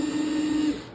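An INGCO 8V 6Nm cordless screwdriver spins at its higher torque setting, giving a short, steady whirring motor hum with a bright tonal whine that lasts under a second, close up and alone.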